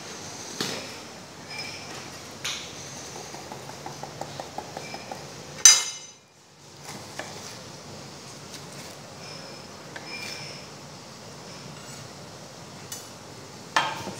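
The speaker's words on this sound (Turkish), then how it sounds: "Bu arada biz biberimizi doğramaya devam edelim." A knife chops peppers on a cutting board in a home kitchen, a quick run of light rhythmic taps followed by a sharper clatter and a few scattered knocks, close and fairly quiet.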